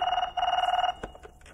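A telephone bell rings in two quick trilling bursts, close and fairly loud, followed by a few faint clicks and rustles, in a Telugu movie comedy scene.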